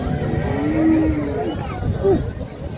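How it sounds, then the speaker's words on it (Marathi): Cows moo in a busy cattle market where cows are sold, a long low call followed by a shorter one, with people talking in the background. "बघा गाई कशा आहेत शेतकरी मित्रांनो।"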